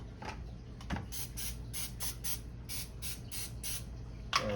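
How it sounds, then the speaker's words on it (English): Cooking spray hisses onto a hot waffle iron in a series of short, quiet bursts at close range, ending with a small clack. "sure I spray my waffle line here."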